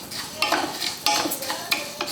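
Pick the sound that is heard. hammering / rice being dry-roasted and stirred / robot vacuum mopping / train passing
rice being dry-roasted and stirred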